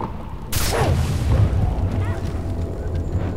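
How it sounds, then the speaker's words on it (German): A single loud gunshot in the video game Far Cry 3, a sharp blast followed by a lingering rumbling tail and steady game ambience. "Das war's mit einem Schuss."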